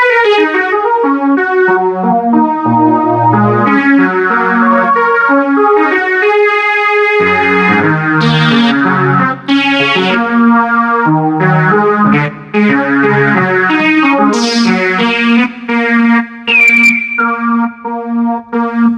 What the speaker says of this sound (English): And this one is a super saw lead 1.